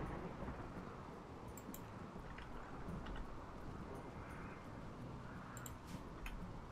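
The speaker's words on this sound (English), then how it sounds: "storm on the go." A thunderstorm in the video game Rimworld: a steady, dense wash of rain and rumbling thunder with scattered crackles, heard alone throughout without talk.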